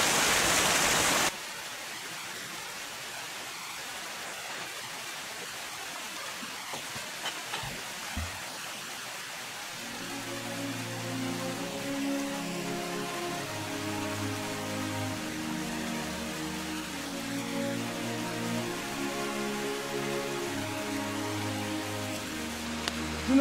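A river flowing steadily, its broadband rushing wash close and continuous with no talking, while a tonal music-like layer rises beneath it partway through.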